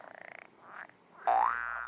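A frog croaks close up in a quiet setting, starting with a rapid pulsing rattle, then a softer call, then a louder drawn-out croak.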